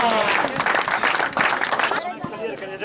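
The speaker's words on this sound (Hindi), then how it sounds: "जोरदार ताली बजा दो भाई" A village crowd breaks into loud, dense applause and clapping at an outdoor gathering, sustained for about two seconds before thinning into a few scattered claps, with faint voices mixed in.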